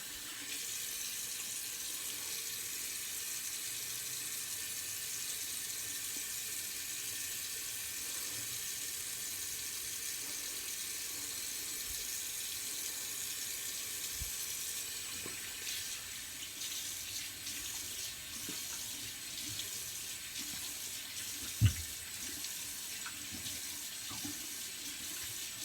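A bathroom tap runs cold water in a steady, continuous gush, with a brief knock partway through and no voices.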